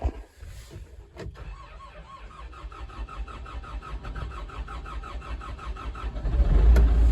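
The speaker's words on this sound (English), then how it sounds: "if it's gonna start at all, it should start now." A telehandler's diesel engine cranks over with a rhythmic starter churn after the glow plugs are used, then catches and builds into a loud, steady idle that rises toward the end, with a sharp clank near the start.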